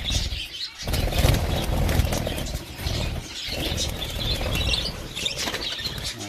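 Agitated budgerigars flapping and fluttering inside a cage, continuous close wingbeats and rustling with a few faint chirps mixed in.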